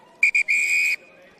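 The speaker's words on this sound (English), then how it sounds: "And there's the final whistle." A referee's whistle ends a rugby match between Ebbw Vale and Bridgend: two short shrill toots, then one long sustained blast, loud and clear over a quiet background.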